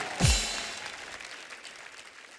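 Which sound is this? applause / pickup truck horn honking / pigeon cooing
applause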